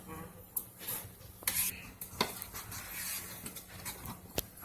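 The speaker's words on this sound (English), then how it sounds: "Yes, I'm still stirring, but if you look, it's a little bit thick." A spoon stirs thickening cornmeal porridge with oatmeal in a pot, giving soft scraping and occasional sharp clinks against the pot in an uneven close-up rhythm.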